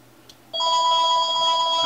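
A telephone rings in a repair workshop, a steady electronic ringtone that starts abruptly and sounds loud and close, continuing without pause.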